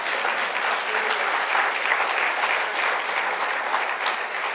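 A church congregation applauds during a Spanish-language women's meeting, a steady, dense wash of clapping that holds at even loudness for the whole stretch without pause.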